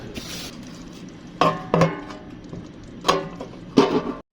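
A lid goes onto a biryani pot on a kitchen stove and the burner is switched off, giving a few sharp metallic clanks and clatters in separate bursts, close and fairly loud, with no talking.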